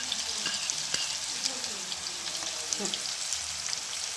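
Carrots and cabbage fry in a hot pan with a constant close sizzle, broken by the occasional scrape and clack of stirring.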